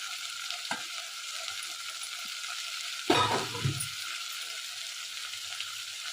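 Cauliflower, carrot and capsicum frying for Mumbai-style pav bhaji, a steady soft sizzle throughout with one brief louder stir and rustle of vegetables near the middle, no talk.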